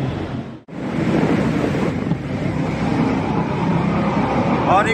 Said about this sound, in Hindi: जो साउंड होता है यहाँ बहुत गूंजता है